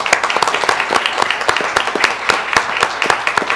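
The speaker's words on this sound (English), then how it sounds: "let's give them one more round of applause for what they did" A modest group applauding at a city council meeting, individual claps distinct and fairly close, forming an uneven steady patter without talk.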